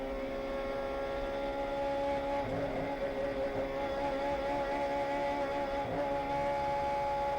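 Onboard a Honda DC5 touring car racing at Sepang, the engine holds a loud, steady high-revving drone at full throttle, with a slight dip and recovery in pitch mid-run and no talk.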